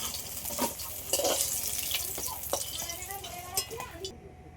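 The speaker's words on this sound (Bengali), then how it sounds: "বেগুনগুলো ভালো করে ভেজে নিয়েছি এবার তুলে নেবো" Eggplant slices frying in hot oil give a steady sizzle, broken by a few scraping stirs and light clinks of a utensil against the pan.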